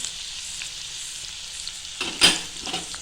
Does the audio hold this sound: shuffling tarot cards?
no